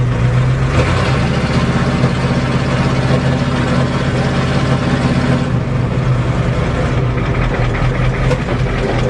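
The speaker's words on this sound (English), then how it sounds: "Gotta love your Ford truck. With no exhaust." A Ford diesel truck engine runs with no exhaust system fitted, a loud, raw, steady low drone that carries on without a break and with no voices over it.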